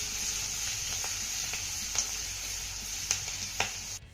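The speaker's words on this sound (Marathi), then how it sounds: "आता हा लसूण आपल्याला चांगला परतून घ्यायचा आहे" Garlic cloves sauté in hot oil tempering in a pan, giving a steady, bright sizzling hiss with a few soft clicks of stirring, fairly close and quiet, ending abruptly.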